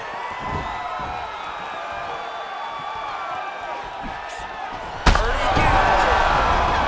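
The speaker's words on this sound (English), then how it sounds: "He got knocked down just before you heard the horn" Knockdown in a UFC 5 video game fight between Anderson Silva and Chuck Liddell, with an arena crowd roaring throughout and a sudden loud slam-like burst near the end as the round-ending horn cuts in, the crowd swelling afterward.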